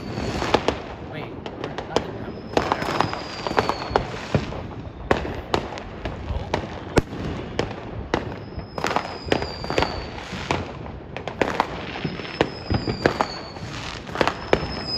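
New Year 2021 fireworks burst continuously, with dense, repeated sharp bangs and crackles at varying distances and whistling rises, as voices talk underneath.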